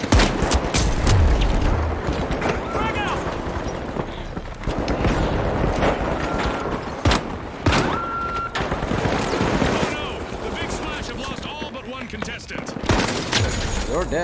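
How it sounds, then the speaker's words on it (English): Rapid gunfire and blasts in a video game, including shotgun shots, in a dense continuous barrage mixed with people talking excitedly. "Is that a shotgun?"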